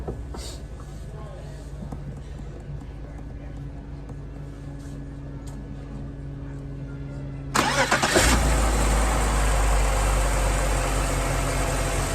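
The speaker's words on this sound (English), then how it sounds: "Let's see if we can start the car, if it'll start." A 2003 BMW 320i with a heater control circuit fault cranks and starts after a stretch of quiet background hum. The engine catches abruptly and settles into a loud, steady idle nearby.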